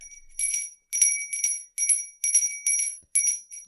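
Christmas bells jingle in a quick, bright, regular rhythm of about ten shakes, loud and close with no voices.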